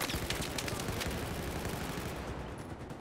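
Rapid gunfire rattles through a Battlefield 4 multiplayer match, bursts of shots overlapping in a dense, loud, continuous barrage with no clear pause.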